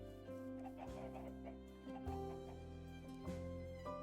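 Minecraft chickens cluck softly in a game, a few short clucks scattered over a steady background music bed, faint and low in level with no talk.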